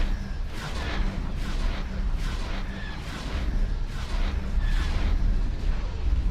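A turret fires in X4 Star Wars Interworlds, a steady run of repeated booming shots at regular intervals, loud and continuous with little else over it.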